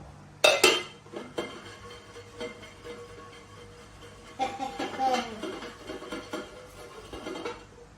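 Freshly made, still-hot homemade popcorn shaken in a bowl, giving a few bursts of rattling, clinking tosses with quieter gaps between them.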